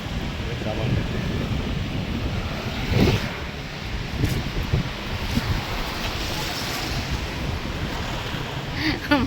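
Ocean waves rolling onto a beach in Phuket, a loud, continuous surf wash with heavy wind buffeting the microphone and faint voices in the background.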